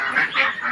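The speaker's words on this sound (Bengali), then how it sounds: "এর মধ্যে অনেক পাখি আছে, এদেরকে সকালবেলা এক টাইমে কিনে দেওয়া হয় জল খাবার।" Poultry birds honk twice in quick succession, loud and close, at a morning feeding.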